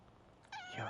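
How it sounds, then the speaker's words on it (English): A cat gives a single close, clear meow in Powerwash Simulator 2. It starts abruptly after a quiet moment, and it is rising and then sustained. "There's a cat."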